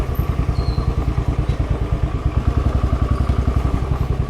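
A Royal Enfield Bullet 500 motorcycle engine thumps with a steady, even beat, loud and close, its rhythmic pulse continuing without a break.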